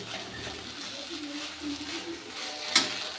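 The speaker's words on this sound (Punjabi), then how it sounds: "ਲੋਹੇ ਦੀ ਕੜਾਹੀ 'ਚ ਬਣਾ ਰਹੇ ਸਬਜ਼ੀ" Potato sabzi with onions sizzling in an iron wok, a steady soft fry with faint stirring scrapes and a sharp clink near the end, while a voice talks quietly over it.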